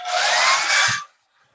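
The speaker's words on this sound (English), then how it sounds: "The hairdryer's coming out." A hair dryer blows loudly and steadily for about a second, then cuts off abruptly into near silence.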